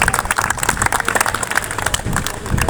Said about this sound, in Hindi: तो एक बार रिवा मैम के लिए स्पेशल तालियां होनी चाहिए प्लीज